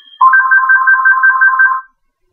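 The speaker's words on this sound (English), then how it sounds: "I just got a phone call" An incoming call sets off a phone ringtone, a loud electronic warble of rapid repeating beeps that sounds alone in one continuous burst of under two seconds before it stops.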